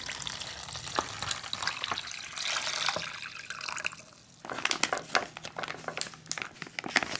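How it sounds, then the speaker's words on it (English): Water splashes and trickles into a crinkling plastic MRE beverage bag, about 10 ounces poured, with dripping and rustling sounds, fairly quiet and close, no talking. "I'm going to add about 10 ounces of water."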